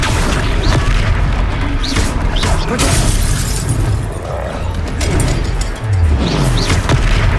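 A fire spell cast during a boss fight in Hogwarts Legacy on Xbox Series X, heard as loud, continuous booming and crashing blasts with shouted voices over the battle din.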